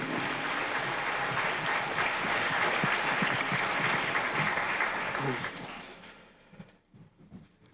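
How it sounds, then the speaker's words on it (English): An audience applauds a fourth-grade spelling bee contestant in a 1993 school setting, with dense, steady clapping for about five seconds before it thins out and fades into a quiet room. "Judges, let's give Nicholas a round of applause."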